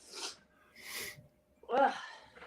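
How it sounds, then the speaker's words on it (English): A person has a sneezing fit: several sharp, breathy bursts in quick succession, close and moderately loud, with a snorting, voiced sneeze in the middle of the run. "Now I'm having a sneezing fit."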